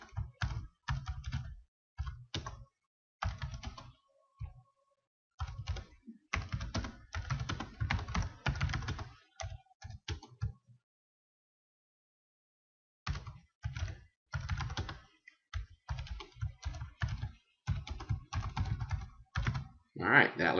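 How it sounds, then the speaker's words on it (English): Steady clicking of computer keys in quick irregular runs, paused briefly midway before resuming, close by and moderately quiet. "we're going to start typing"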